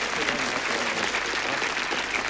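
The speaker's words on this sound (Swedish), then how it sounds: "Normala kvällar brukar vi få en varm, spontan applåd." A theatre audience at Liseberg applauds in a steady, dense wash of clapping that holds evenly throughout, with no talk over it.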